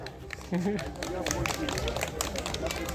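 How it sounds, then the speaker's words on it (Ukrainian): An audience at a charity fair in Brovary, held to raise funds for the armed forces, breaks into applause after a short spoken introduction. Crowded clapping continues with a voice still audible over it. "ваші оплески"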